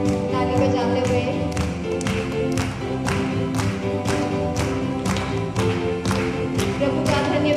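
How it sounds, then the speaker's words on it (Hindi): A worship congregation claps in steady rhythm, roughly two claps a second and sharp and loud, along with a Hindi worship song played by a band while a voice sings over it. "ताली बजाते हुए"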